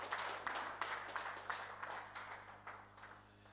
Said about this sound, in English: Please, a louder round of applause.